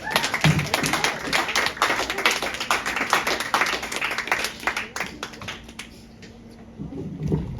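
Applause for a comedian at a Shanghai Room comedy show in Seattle, with dense, close clapping from the crowd that thins and fades toward the end before a few claps pick up again.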